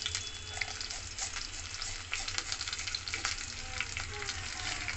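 Panch phoron, a dried chilli and curry leaves sizzle in a little oil, making a steady, fairly quiet frying hiss with faint crackles and pops throughout.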